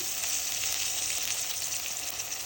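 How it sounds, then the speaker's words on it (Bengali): Ginger-garlic paste sizzles in a hot pan for an egg and potato curry, a steady, dense hiss that holds evenly throughout with no voices. "আদা রসুনের পেস্ট দিয়ে দিচ্ছি"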